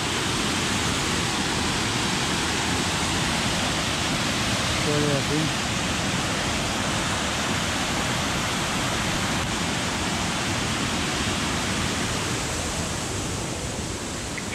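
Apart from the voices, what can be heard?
waterfall rushing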